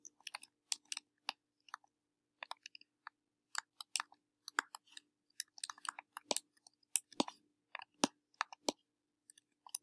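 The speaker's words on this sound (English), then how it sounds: "If you can hear my keyboard, I'm sorry." Rapid, irregular keyboard typing during a fast Minecraft building session, crisp clicks coming in uneven bursts, close and fairly quiet, with no talking.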